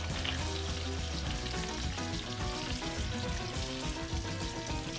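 Green peppercorns go into a mustard sauce reducing in a hot pan, giving a steady, dense sizzle and bubbling that carries evenly throughout at close range, with no talking.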